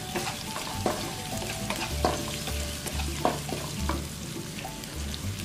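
Whole chillies fry in a pan with a steady sizzle, broken by repeated scraping and stirring knocks from a utensil, close and fairly loud, with no talking.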